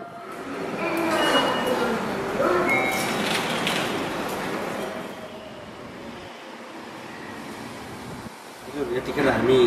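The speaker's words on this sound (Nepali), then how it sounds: "यतिखेर हामी जापानको अन्डरग्राउन्ड रेलवे मानवनीति लाइनमा हामी हाम्रो ट्रेनको प्रतीक्षामा छौँ" An underground train on a railway line in Japan, a loud sustained rumble and rush of the train in a station that builds and then fades, with some voices under the noise.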